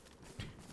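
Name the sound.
player footsteps in video game DayZ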